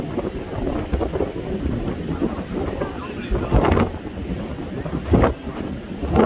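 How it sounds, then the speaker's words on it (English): Strong wind buffeting the microphone on a beach by a pier, a continuous loud roar with heavier gusts rising and falling throughout. "This is some crazy ass wind,"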